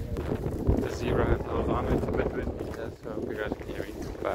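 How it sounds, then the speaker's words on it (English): Wind buffets a microphone outdoors in Bordeaux, a rumbling gusty roar that rises and dips under someone speaking throughout. "It's a bit windy"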